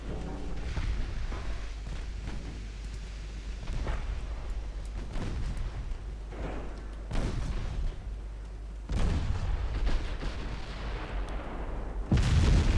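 Warship main guns firing armor-piercing shells in the naval battle game Ultimate Admiral Dreadnoughts, with heavy booming salvos at intervals over a constant low engine rumble. The loudest blasts come near the end.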